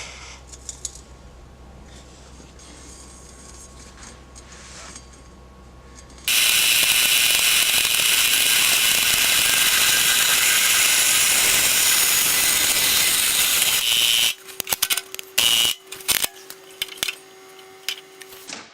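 A bandsaw cuts through an exhaust tip pipe, a loud steady grinding rasp that holds for several seconds. Then it stops and gives way to scattered metallic clicks and knocks.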